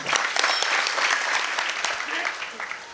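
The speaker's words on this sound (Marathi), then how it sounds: "टाळी वाजव भाऊच्या नावाने" Audience applause at a Marathi devotional kirtan performance, a dense steady clapping from many hands across the whole stretch, loud and close, with no talk over it.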